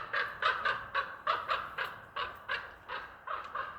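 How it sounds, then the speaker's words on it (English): A raven calls repeatedly overhead with loud, harsh squawks in a steady rhythm, about a dozen honking cries over a few seconds. "there's a raven flying over. A very loud raven"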